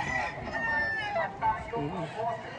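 A gamecock rooster at a fighting-cock sale crows in a long wavering call, fairly close, with other fowl clucking and people talking nearby.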